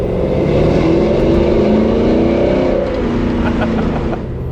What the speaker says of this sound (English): I'm hoping I can pick up some of the exhaust notes. This actually has dual flow masters coming out of the middle of the cab